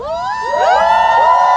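A concert audience at a live tour cheers and shouts together, a loud swelling roar of high voices and whoops that rises over a second and a half.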